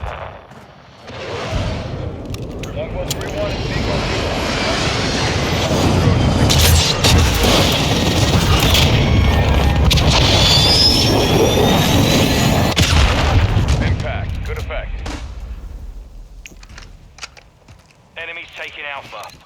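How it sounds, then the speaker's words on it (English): A VTOL jet aircraft roars in over a Call of Duty-style battlefield, a loud sustained jet rush building with booms and gunfire mixed in, then fading away near the end while game voice lines talk over it. "Friendly VTOL entering"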